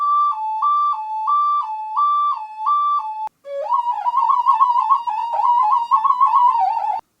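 An ocarina plays clear, pure whistling tones, first alternating evenly between two notes several times, then after a short pause a wavering sequence of held notes, alone and close.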